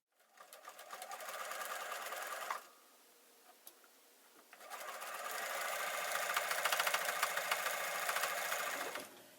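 A sewing machine runs a dense satin stitch to form a small circle on fabric, its rapid, even whirring steady and close for a few seconds, pausing briefly, then resuming for a longer continuous run.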